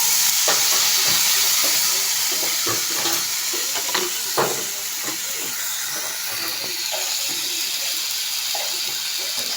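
Golden-browned onion and garlic sizzling with fish sauce in a pan, a continuous bright hiss with scattered soft stirring knocks throughout.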